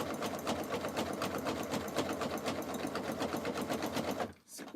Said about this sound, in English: So we're just going to feed the fabric in at the exact